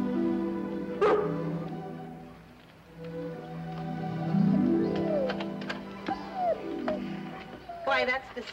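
A collie dog barks and whimpers in short, scattered bursts over a bed of music, with a few yips near the end, all mid-distance and moderately loud.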